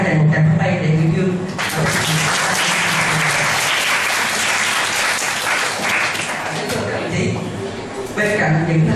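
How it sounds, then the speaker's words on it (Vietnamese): Applause from students and staff at a school youth union congress, a sustained burst of crowd clapping that swells after a speaker's voice and fades back into talk near the end. "chúng ta hãy dành một tràng pháo tay để biểu dương"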